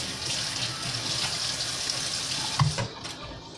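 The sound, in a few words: water from a faucet rinsing out a tuna can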